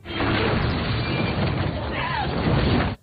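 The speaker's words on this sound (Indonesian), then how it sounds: "terjadi sebuah ledakan" A loud, sustained explosive roar with crackling debris fills the clip, steady and dense for about three seconds before cutting off.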